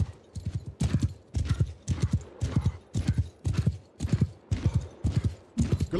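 Horse hooves clip-clop in steady, evenly spaced bursts of galloping beats in the Warhammer Old Realms mod of the video game Bannerlord, loud and close with no voices over them.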